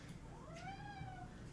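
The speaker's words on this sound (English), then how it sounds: "That was our kitty Miles coming to say hi" A pet cat named Miles gives a single faint, drawn-out meow with a rising and falling pitch, close by but quiet against a soft room background.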